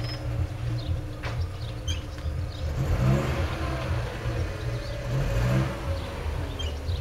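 A car pulling in to park, its mid-pitched engine humming and rising slightly as it nears, moderately close against a quiet outdoor background, no talk.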